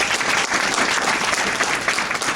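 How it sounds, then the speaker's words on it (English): An audience at a sales lecture claps, a dense, even roar of many hands that holds steady and fairly loud throughout, with no talking over it. "Give yourselves a round of applause"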